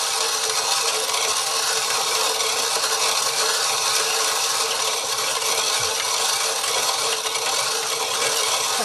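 Roasted coffee beans ground in a hand mill, a loud, continuous gritty rasping and rubbing that carries on without pause, close up and alone with no talking.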